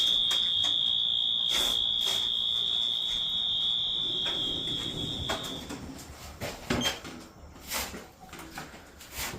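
A fire alarm sounds during a call-out test, a loud steady high electronic tone running for about six seconds, then cutting off, leaving room noise and some knocks and handling sounds.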